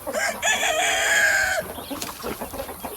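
Chickens in a garden, a rooster among them, give a long, loud crow that gives way to a run of busy clucking, close by and with no talk over it.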